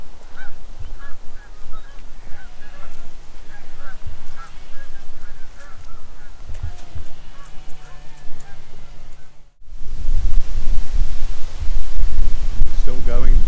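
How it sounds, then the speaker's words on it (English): Geese honking as they take off somewhere above a countryside coast path by a canal, calls repeated over outdoor wind and rustle, fairly distant, with a louder gust of noise near the end. "Maybe geese up there, geese just taking off."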